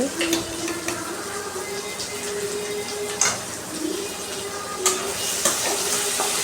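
Sliced okra stir-fried in a pan for sambar, a steady soft sizzle with intermittent scraping knocks of a spoon stirring, fairly close and moderate in level.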